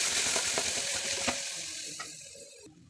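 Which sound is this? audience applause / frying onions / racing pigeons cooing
frying onions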